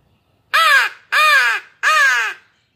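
A Flextone crow call imitates three loud, harsh crow caws, evenly spaced about half a second apart, close and alone with silence between them.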